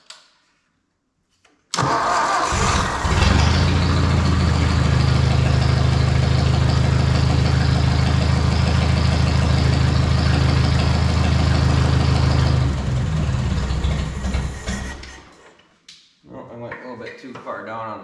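A Ford 641 tractor engine, with a freshly charged battery, cranks and catches, then runs loud and steady at a rough low idle for about ten seconds before cutting out, with a voice speaking over the running engine.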